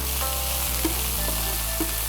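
A Chinese stir fry with chives and ginger hisses loudly and steadily in the wok right after cooking wine goes in, a dense close sizzle with a couple of faint taps, no voices.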